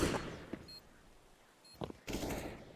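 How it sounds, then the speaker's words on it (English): Grenades popping in Counter-Strike on the Inferno map during a competitive esports match: a burst at the start, then two sharp pops close together near the end, with quieter game noise between. "And as those nades popped over,"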